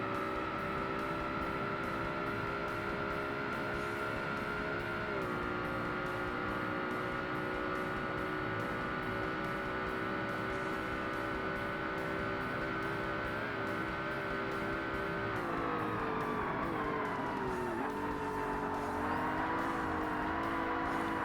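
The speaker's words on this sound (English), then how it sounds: "Again, I'm drifting around there." A high-powered race car in Forza Motorsport drifts through corners in a professional-class race. Its engine holds a steady, loud, high-revving drone that dips in pitch at a few moments, with no tire screech clearly standing out.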